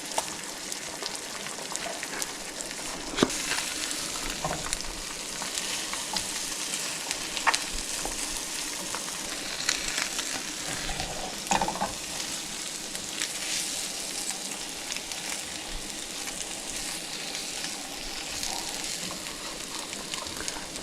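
An egg fries in a pan, its yolk broken, giving a steady close sizzle and crackle with a few small pops and no talking.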